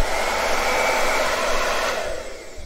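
An InfinitiPro hair dryer blows at a steady, fairly quiet whir up close, its airflow rushing evenly before easing off slightly near the end, with no voices.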